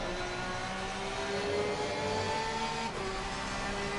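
A Porsche GT3 race car engine at Zandvoort in the Assetto Corsa Competizione racing game holds a steady high whine and rev, with a slight pitch shift as it comes through the final corner, heard alone without voices.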